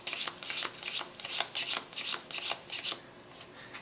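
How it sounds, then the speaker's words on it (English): A deck of board-game event cards is shuffled by hand: repeated crisp riffling bursts in an uneven rhythm, close and clear over a quiet background, with no talking. "You will take your event deck, shuffle it up."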